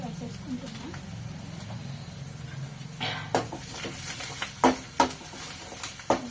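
Spices with ground coriander are stirred in a cooking pan for an egg curry, a soft low sizzle carrying a series of sharp scraping and clinking strokes in the second half, with a voice talking underneath early on.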